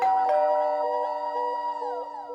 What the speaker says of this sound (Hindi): अबे डोरबेल बज रही है